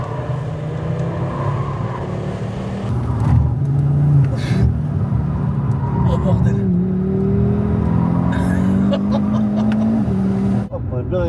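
A car engine accelerates and revs hard in a steady, loud drone that climbs in pitch, with people talking excitedly over it throughout.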